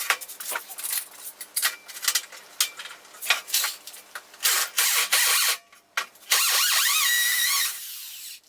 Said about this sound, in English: I'm gonna drill the hole about right there.